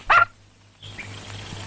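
A single short dog bark rings out close by at a spot where a dog lies after giving birth, followed by quiet background hum.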